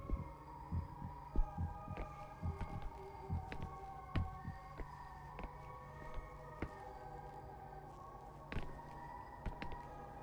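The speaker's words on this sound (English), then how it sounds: "I can hear your heart beating" A slow, steady heartbeat thuds in a horror video game, soft low double beats repeating over a quiet hum, with occasional sharp clicks and no talking.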